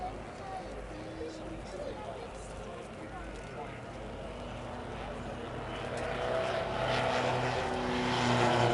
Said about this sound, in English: Curtis Spitz, we have to thank for the design of this fabulous aircraft way back in 1942 in Jacksonville, Florida.